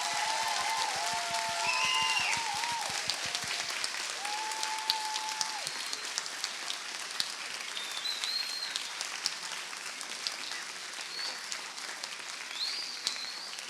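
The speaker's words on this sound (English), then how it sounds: "Let's everyone please give a big final round of applause to the grade 8 students." Audience applause for grade 8 students at a middle school spring concert, a sustained wash of many hands clapping that starts full and slowly thins, with a few whistles and cheers rising above it near and far.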